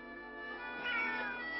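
A domestic cat meows in one drawn-out, moderately loud call that swells toward the middle and trails off, heard close with no talking.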